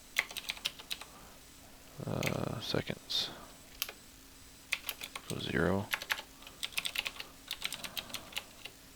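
Rapid keyboard typing clicks in bursts, close and fairly soft, broken up by a person talking quietly.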